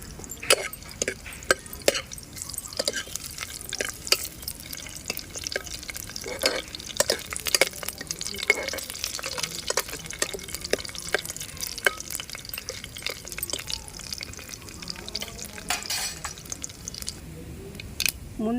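Crushed garlic and dried red chillies frying in hot oil for a Telugu red gram dal tempering, a steady crackling sizzle with scattered pops and stirring scrapes, close and moderately loud.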